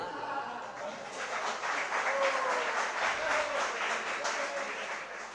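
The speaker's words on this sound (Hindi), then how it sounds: "सर्दी के समय पर तालियों की आवाज़ कम आती।" Audience applause fills a sermon hall in Kundalpur during a winter discourse, a sustained, dense clapping that holds steady throughout with a few brief vocal sounds mixed in.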